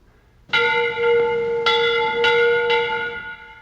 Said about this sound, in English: What was that noise? Giant bell or something.